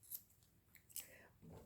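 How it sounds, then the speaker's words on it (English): Scissors snip the finger off a tight-fitting disposable glove: a few quick, close, quiet cuts with short gaps between. "So I'm just going to cut the finger off."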